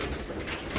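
Racing pigeons in a loft coo softly, a brief, faint, low burbling with a little background noise around it.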